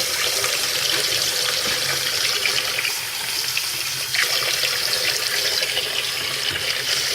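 Hot water is poured steadily into a cup of instant noodles up to the fill line, a continuous close hissing splash with no pauses and no talking.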